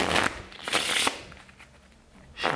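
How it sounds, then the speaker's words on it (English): Playing cards riffled in quick bursts, a crisp fluttering rattle, then a pause before another short shuffle at the end. "Another time I shuffle"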